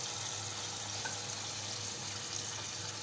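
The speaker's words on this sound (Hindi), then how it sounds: "अब हम इसमें पानी डालेंगे" Steady rushing splash of water poured continuously into a cooking pot of chicken nihari, broad hiss with no pauses, close by, no voices.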